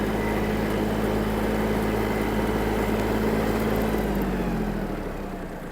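A Yanmar AF-120 mini tractor engine drones steadily in fourth gear, a loud, close mechanical hum with a buzzing harmonic tone that eases off slightly at the end.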